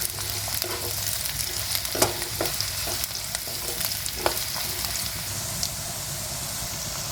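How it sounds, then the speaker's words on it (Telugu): Chopped onions sizzle in a pan for a small fish curry, with a constant low fry under repeated scraping stirs of a spoon at irregular intervals, fairly quiet and close. "ఉల్లిగడ్డ తొందరగా ఇలా ఫ్రై కావాలంటే"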